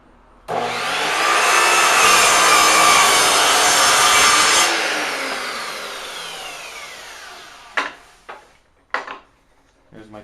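A power saw cuts strips of wood for a sword grip core, a loud sustained whine for about four seconds that winds down, followed by several sharp knocks and clatters of wood being handled.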